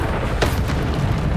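Bombarda blasting spell in Hogwarts Legacy, a loud low boom with a sharp crack at its start over a continuous heavy rumble.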